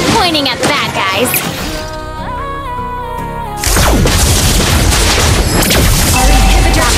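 Explosive booms, crashes and gunfire from a MOBA video game battle as an inhibitor turret comes under attack, loud and continuous with dense layered impacts and a game voice announcing over the action.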